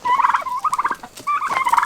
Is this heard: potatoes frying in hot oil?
no